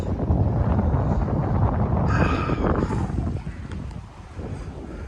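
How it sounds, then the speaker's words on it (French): Strong wind of about 12 knots buffets and rumbles across the microphone on open water at sunset, a steady roar with a brief hiss of spray midway. "12 nœuds de vent."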